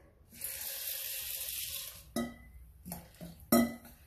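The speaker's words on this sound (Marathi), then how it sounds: "तो अगोदर स्वच्छ पाण्याने धुवून घेऊयात" Sago pearls being washed in clean water in a bowl, a swishing rinse followed by a few sharp knocks and clinks of the bowl, close up with no talk.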